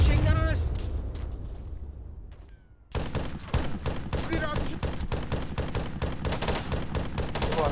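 Machine gun fire in the military game Arma 3, rapid sustained bursts of gunfire dominating the second half after a quieter stretch, with voices talking over the shooting.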